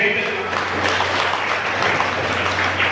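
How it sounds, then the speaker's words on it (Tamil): Applause from an audience welcoming a guest at a Thanjavur district TAMBRAS celebration in Kumbakonam, a steady wash of clapping lasting the whole stretch over a constant low hum. "எல்லாரும் கரகோஷம் நிறைய"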